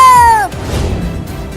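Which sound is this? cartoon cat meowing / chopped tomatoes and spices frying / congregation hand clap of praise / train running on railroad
cartoon cat meowing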